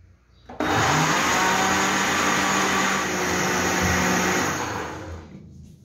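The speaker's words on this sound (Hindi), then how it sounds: "अब इसको चलाते हैं ब्लेंडर को।" A kitchen blender grinds green chutney with about half a cup of water, starting with a sudden loud whirring roar that holds steady for several seconds before easing down as it stops.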